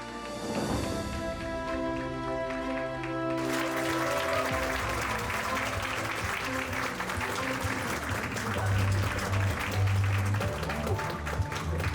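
Sustained applause from a crowd at an award ceremony for a Korean-language speech contest for international students, dense clapping under music, continuing steadily throughout.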